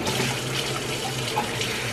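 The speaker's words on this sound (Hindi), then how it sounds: "तो अभी हम पुदीने को धोते हैं" Tap water runs steadily into a sink as fresh mint leaves are rinsed in a home kitchen, a continuous close splashing hiss with no talking.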